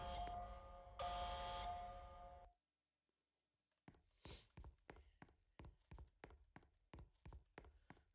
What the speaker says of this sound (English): But if I click it again, alarm goes off.